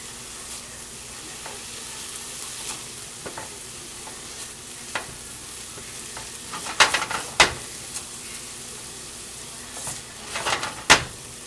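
Food sizzles steadily in a hot pan with a little soy sauce while a utensil stirs and scrapes through it, with several sharp scraping clacks standing out over the constant frying hiss.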